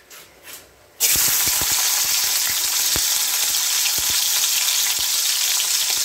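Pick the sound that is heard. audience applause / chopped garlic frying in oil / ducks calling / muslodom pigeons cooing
chopped garlic frying in oil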